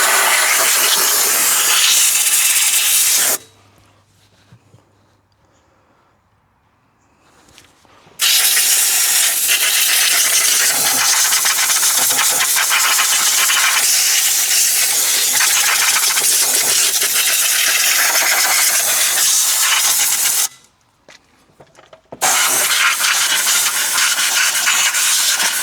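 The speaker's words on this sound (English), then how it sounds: "we're just going to take compressed air and we're going to blow out as much as this we can" Loud, steady hiss of compressed air blasting dust out of the clutch of a Polaris RZR XP 1000, in two long bursts separated by short pauses, close to the microphone.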